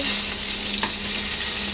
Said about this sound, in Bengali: এদিকে রান্না বান্না চলছে বলতে বেগুন ভাজা বসিয়েছি, আর ওটাতে ডাল বসিয়েছি